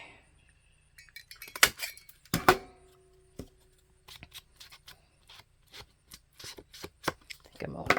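Scissors snip through a file folder being trimmed as a journal cover, crisp close cuts and rustles of card in uneven bursts separated by short pauses.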